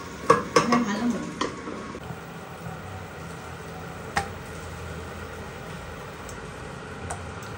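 Flattened rice (chira) dry-fried without oil in a pan over low heat, giving a few close scraping and stirring clatters early on, then a steady soft hiss with occasional light ticks.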